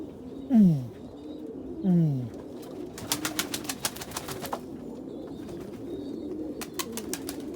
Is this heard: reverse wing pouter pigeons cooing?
yes